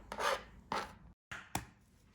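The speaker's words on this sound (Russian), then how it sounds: "Пропускаю картофель через среднюю терку" Potato grated on a medium grater for zucchini cutlets, heard as three separate rasping strokes with short pauses between, close and fairly quiet.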